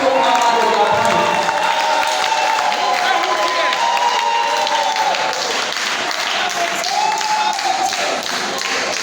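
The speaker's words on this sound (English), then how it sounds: "let's clap for them, let's clap for them." An audience at a debate applauding loudly and steadily, a dense wash of clapping from a large crowd filling the room without a break.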